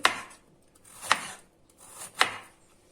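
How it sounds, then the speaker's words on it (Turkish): Three sharp knife chops slicing peppers into rings on a board, spaced about a second apart, close and clear with quiet pauses between. "Biberlerimizi yine bu şekilde halka halka doğruyorum"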